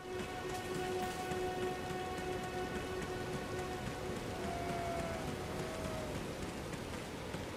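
Steady rain patters constantly in the video game Elden Ring, a dense hiss of drops with a faint tonal hum underneath; no one speaks.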